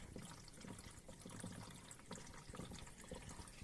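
Water drains from a Vilgrand washing machine during a repair, running and trickling in a continuous, faint, close splashy flow with no voices.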